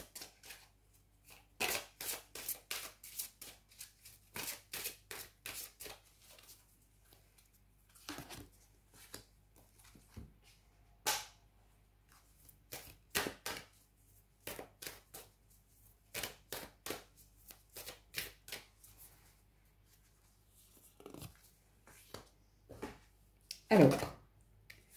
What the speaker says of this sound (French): on va aller prendre une carte des anges et puis on va prendre une carte du lunologie